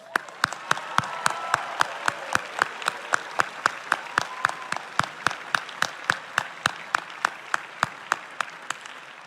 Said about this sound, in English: I think you owe yourselves a big round of applause.